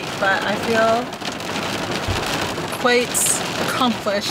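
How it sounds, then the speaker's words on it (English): Wind and rain buffet a hillside hot spring, a steady broadband rush under a voice as she speaks briefly. "It's very windy and very rainy"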